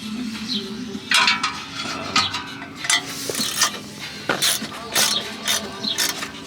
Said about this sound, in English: All right, so we are bolting on the headers.